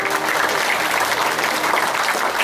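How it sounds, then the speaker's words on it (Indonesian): An audience at an Indonesian family talk or meditation gathering claps in a dense, continuous round of applause, loud and evenly sustained throughout, with no talk over it. "Tepuk tangan."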